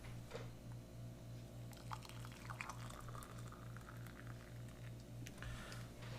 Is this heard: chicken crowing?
no